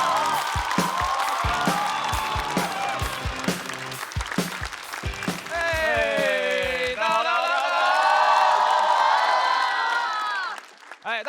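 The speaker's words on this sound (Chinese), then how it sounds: "掌声有请！" A large studio audience at a comedy show bursts into loud, sustained cheering, whoops and clapping as a stand-up comedy duo is welcomed on stage, with the crowd noise rising and holding steady before tapering off at the end.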